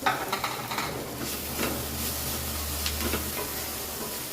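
Grated beetroot sizzles in a hot pan while a spoon stirs it, a few scraping strokes at the start over a continuous close frying hiss.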